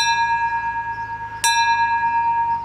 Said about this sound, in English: Now Randy, you're required to have a ship's bell uh, at all times.